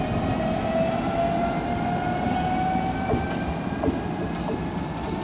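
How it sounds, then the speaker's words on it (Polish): A passenger train moving along the track, a steady loud rumble with a faint whine and a few light clicks near the end, heard alone without voices. "Jadący pociąg, ładny widok."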